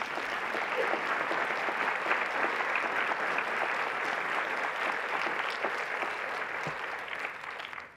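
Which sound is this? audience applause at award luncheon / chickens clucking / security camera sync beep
audience applause at award luncheon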